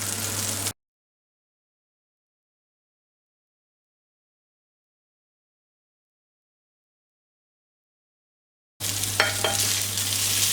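A small amount of butter sizzles as it melts in a pan, giving a close, steady frying hiss with faint stirring clicks. The sizzle is heard briefly at the start and again at the end, separated by a long silent gap.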